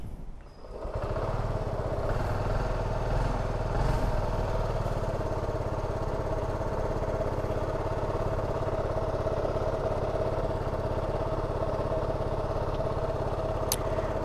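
A 2025 TVS XL100 Comfort moped with fuel-injected engine starts up and settles into a steady, close idle, its even putter running continuously with no talk over it.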